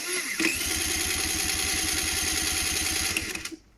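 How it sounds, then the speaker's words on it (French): A 50cc motorcycle engine cranks in a steady rapid chugging rhythm for about three seconds without catching, loud and close, then cuts off into silence. "Je m'enlève la béquille, j'essaie de redémarrer à nouveau."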